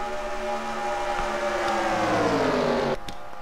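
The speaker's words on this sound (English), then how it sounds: "You can hear Kellis's engine." Race car engine in a racing video game, a steady high-pitched whine with harmonics that slide gradually downward as the car holds speed, then cut off abruptly near the end.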